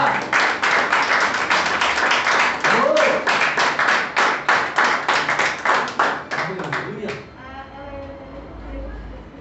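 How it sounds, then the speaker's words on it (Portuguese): Church congregation clapping during a worship service, a fast rhythmic run of loud hand claps that fades out after about seven seconds, followed by quieter background sound. "Que a igreja me dá uma salva de palmas."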